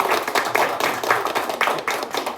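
An audience at an architecture exhibition talk claps for the chairman, with a few seconds of uneven, moderately loud handclaps from a modest crowd, with bursts rising and falling and no clear voices.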